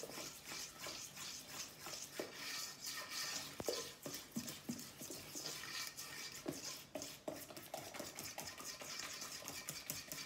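Cake batter made with unsweetened condensed milk, flour and baking powder being mixed by hand in a bowl, a continuous quiet scraping and rubbing with irregular clinks of the utensil against the bowl.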